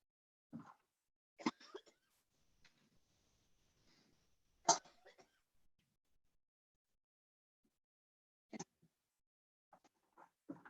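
Several sharp coughs over a phone line during a board of selectmen meeting, isolated bursts spaced apart with near silence between them.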